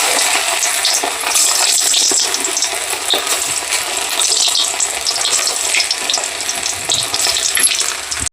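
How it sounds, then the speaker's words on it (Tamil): Pieces of chicken 65 fry in hot oil for a home-cooked Milad-un-Nabi feast, a loud, steady, crackling sizzle that runs throughout with the faint clink of stirring. "ஓகே, எண்ணெய் வந்து நல்லா ஹீட் ஆகிடுச்சு. அங்கே போய் நம்ம இது எடுத்து வரவங்களையும் இப்போ போட்டுருவோம்."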